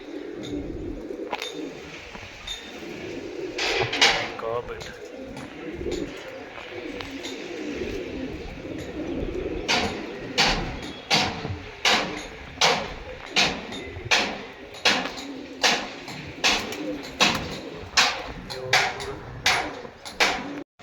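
Pigeons coo close by in a steady run of repeated soft calls, growing more regular toward the end, with light ambient noise and occasional faint voices around them.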